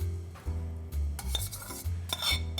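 A spoon stirring summer slaw ingredients together in a bowl, giving a series of light clinks and scrapes in an uneven rhythm, close and fairly quiet with no talking.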